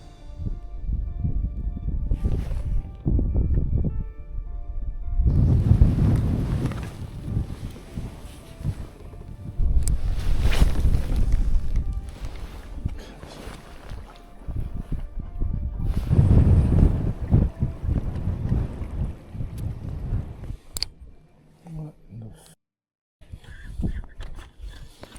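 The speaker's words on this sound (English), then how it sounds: "Pretty windy today." Strong wind on a lake keeps buffeting the microphone in heavy, rumbling gusts that come in several loud surges and ease off between them. It drops out briefly near the end.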